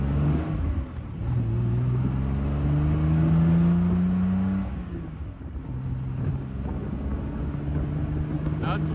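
A 1973 Triumph TR6 drives along with a steady engine drone that rises and falls through the gears, heard from inside the car over road noise.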